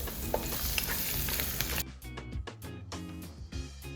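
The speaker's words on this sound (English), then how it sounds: "About a minute of sauteing," Chopped ginger sautéing in hot oil in a pan, first a dense steady sizzle, then stirring that leaves quieter crackles and scrapes up close.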